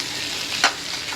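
A cooked dish stirred in a pan after coriander leaves go in, a soft steady sizzle with one quick scrape of the spoon partway through.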